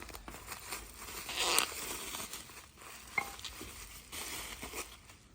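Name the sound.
cutting open a parts package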